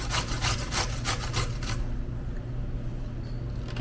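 Raw beets grated by hand for Russian red borscht, with a run of quick, rhythmic rasping strokes close by for about two seconds before the scraping stops and only a low room hum remains.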